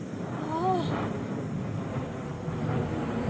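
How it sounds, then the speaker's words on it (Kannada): An airplane passes overhead as a steady, rumbling drone at moderate distance, with a brief rising chirp early on over the continuous engine noise. "ವಾವ್, ವಿಮಾನ."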